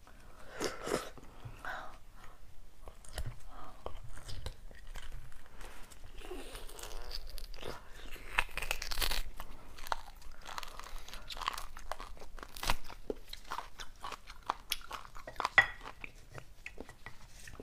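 Spicy beef bone marrow eaten close up for ASMR, with wet chewing, soft crunches and occasional clinks of utensils against a dish, scattered irregularly over quiet pauses.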